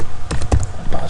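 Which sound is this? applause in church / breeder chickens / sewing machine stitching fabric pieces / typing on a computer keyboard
typing on a computer keyboard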